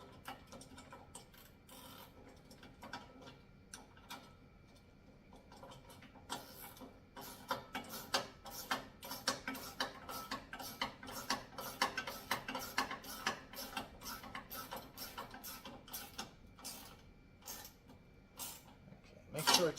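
Ratchet wrench tightening bolts on a wall-mounted pull-up bar, rapid rhythmic clicking in bursts, close and fairly quiet.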